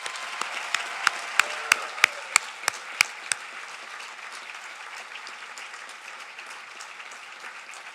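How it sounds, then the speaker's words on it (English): Audience applause at a U.S. Naval War College graduation ceremony, a dense burst of clapping with a few sharp individual claps standing out early, then thinning into a steady softer patter. "Let's give them one big final round of applause."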